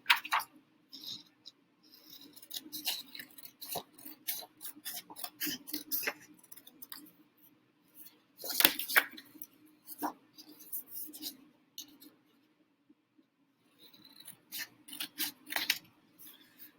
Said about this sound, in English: So I'm going to trim my paper down.